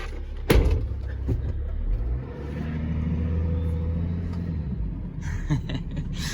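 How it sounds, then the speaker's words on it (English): A BMW X5 35d with a deleted and tuned diesel engine rumbles steadily at close range, a low throaty drone following a door thump, with light clatter and movement around it. "It's my first diesel. The thing sounds awesome."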